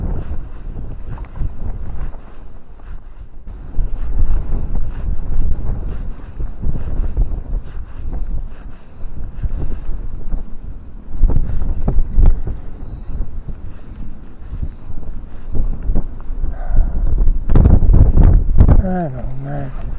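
Strong wind buffets the microphone in steady, loud gusts out in the open Welsh uplands of the Cerrigllwydion lakes, with low rumbling surges throughout and a voice speaking over parts of it.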